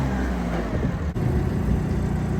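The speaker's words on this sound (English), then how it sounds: "It's getting pretty good with the forklift." A forklift engine runs steadily while pallets are loaded into a shop, a loud, constant mid-pitched motor drone that rises slightly halfway through, with no talking.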